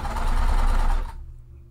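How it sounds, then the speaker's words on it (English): A sewing machine runs in a fast, even burst while stitching down a pleat on a quilt pillow, close and loud, then stops abruptly about a second in, leaving quiet room tone. "I'm continuing to sew down"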